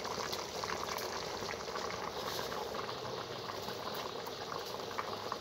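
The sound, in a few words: moong and masoor dal khichuri boiling in a pot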